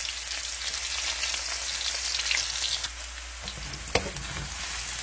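Red onions sauté in hot sesame oil, giving a steady, close sizzle with crackling and a few sharper pops, with no talking.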